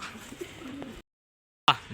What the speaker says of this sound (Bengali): বিয়ার্স একটা ব্ল্যাক রেসার মেল কবুতর দেখাবো আপনাদের